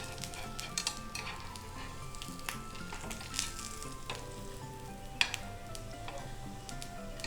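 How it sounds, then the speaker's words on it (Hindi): Kothimbir vadi frying in desi ghee in a pan, a continuous soft sizzle with light spoon scrapes and occasional clicks as the pieces are nudged. "देसी घी फिर से डालूंगी। और एक चम्मच की सहायता से इसे थोड़ा थोड़ा सा इस तरह से हिला लेंगे।"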